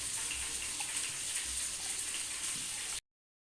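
Tamarind squeezed and dissolved by hand in water for a village-style sardine curry, a soft continuous sloshing and swishing close by, steady until it cuts off abruptly.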